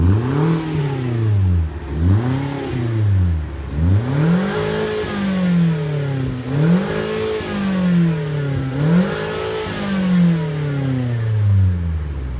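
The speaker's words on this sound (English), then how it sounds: "That's a muffler delete, just a rear muffler." A 2016 Scion iA with its rear muffler deleted and a new exhaust tip revs repeatedly, rising and falling in about six loud, raspy pulls close to the exhaust.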